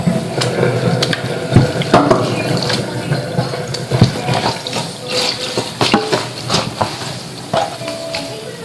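Tap water runs steadily into a sink or tub while a dog is rinsed during a bath, with splashing and spattering over the continuous flow, near and fairly loud.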